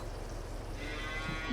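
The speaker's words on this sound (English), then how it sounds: "Moo." A cow lowing in Farming Simulator 22, a single low, drawn-out moo that rumbles faintly on a beef cattle farm, with no talk over it.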